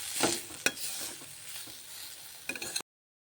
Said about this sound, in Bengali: উচ্ছে কুমড়ো ভাজা আজকে রান্না করা হলো